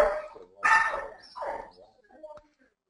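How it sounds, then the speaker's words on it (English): A dog barks a few times over a call, with loud yapping bursts close to the microphone, mixed with a voice and fading out near the end. "I hear Doug's dog Penny in the background."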